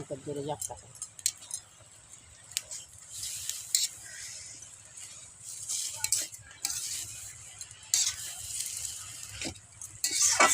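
A spatula scrapes and turns cabbage and prawns in a pan in uneven bursts of clattering strokes, with a soft background hiss between them.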